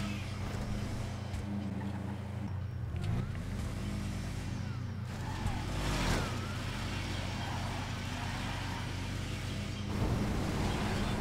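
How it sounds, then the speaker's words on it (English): A car engine in GTA Online eases off, holds at half throttle, then revs hard and accelerates, its pitch sweeping up in several rising surges that stay loud and close throughout the clip. "I let go of acceleration and then go half throttle and then accelerate fast"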